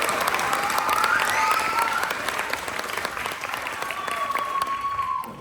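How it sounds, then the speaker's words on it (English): An audience at a spring variety show claps steadily, a dense wash of applause that slowly tapers off near the end. "Give them a round of applause."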